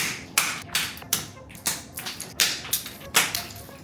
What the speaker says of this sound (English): So let's knock these things off and see how much it actually made it up the wall.